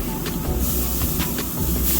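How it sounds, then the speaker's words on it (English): A spray bottle spritzes pulled pork on a pellet grill outdoors on a breezy day, giving several short hissing bursts over steady wind and grill noise. "get the meat, spritz the meat"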